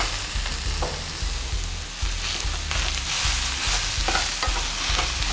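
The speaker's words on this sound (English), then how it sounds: "We'll add in the chopped spinach, and we'll keep sauteing and cooking the spinach until it wilts down and softens." Chopped spinach sautéing in oil in a pan, with a steady close sizzle and repeated scraping stir strokes at a regular rhythm throughout; no one speaks.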